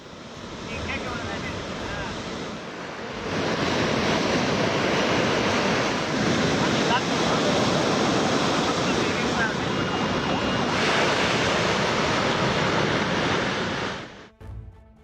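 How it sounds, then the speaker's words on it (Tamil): Rough, high sea waves at Marina beach in Chennai during a cyclone, heard as a loud, continuous roar of surf and wind that swells after a few seconds and drops away at the end. "மெரினாவில் பல அடி உயரம் வரை அலைகள் எழுகிறது."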